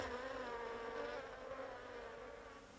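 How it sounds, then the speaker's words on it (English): Honeybees from Carniolan and Buckfast colonies buzz around modern hives sited between an orchard and a wood, a soft continuous droning hum with no voices. "In Herr Fink's case, Carniolans live cheek by jowl with colonies of Buckfast"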